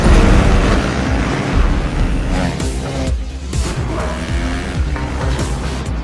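Race cars tear past in a film race, with loud engines rising and falling as they overtake one another close by, and brief surges and whooshes follow each other.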